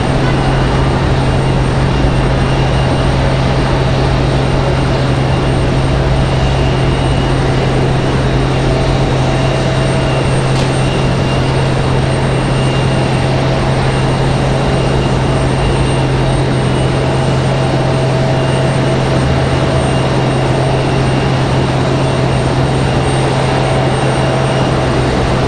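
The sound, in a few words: Southwest airliner arriving from Denver at RDU airport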